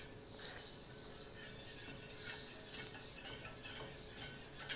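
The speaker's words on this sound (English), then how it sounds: "Just want to make sure that all of the butter is melted before we stop stirring." Melted butter being stirred in a pan, a faint, soft scraping and light clinking of a utensil repeating steadily at low volume with no talk.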